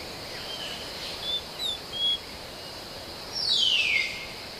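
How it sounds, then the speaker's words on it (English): Morning Indian jungle ambience: a steady high insect drone with a few short, thin bird chirps and one louder descending call near the end, all fairly faint against a soft background hiss. "the jungle pulses with the sounds of insects and birds."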